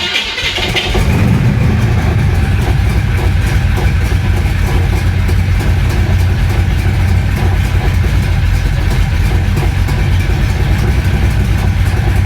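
A flooded 1966 Chevy Impala SS V8 runs steadily after a brief starting burst, a loud, rough, continuous engine drone held on the gas for about twelve seconds with no voices.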